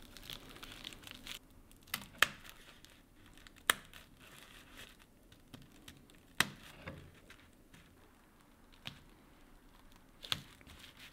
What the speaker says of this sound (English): And I'm using a piece of duct tape to help prevent it from tearing further.